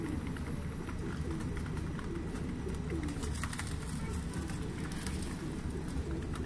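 Pigeons coo softly in a loft, low repeated murmuring calls over a dense, steady background hum with occasional rustling.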